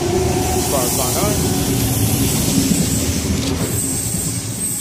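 A Sydney suburban train rolls past the platform at Penshurst station, a loud continuous rumble with wheel clatter and high squealing throughout, close and steady.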